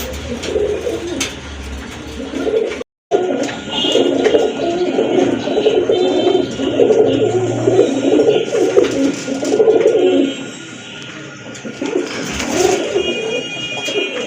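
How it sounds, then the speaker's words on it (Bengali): Domestic and imported pigeons, including an Andalusian-coloured pair, coo repeatedly at close range in low rolling phrases, with other birds calling and a faint high electronic tone behind, no one speaking. "আরেক জোড়া কবুতর দেখতে পাচ্ছেন"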